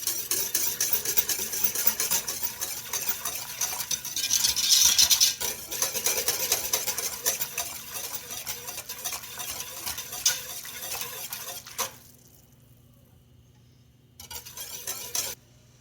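Toast slurry is spooned into a simmering Quebecois pork trotter and meatball stew, with steady stirring scrapes and a soft sizzle up close, then a short lull before more stirring.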